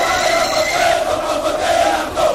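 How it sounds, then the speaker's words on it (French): A large outdoor crowd in Kindu, Maniema province, DR Congo, welcomes a presidential candidate at a campaign rally with a steady, dense roar of cheering and shouting voices throughout. "Quel accueil, quel bain de foule à Kindu, chef-lieu de la province du Maniema"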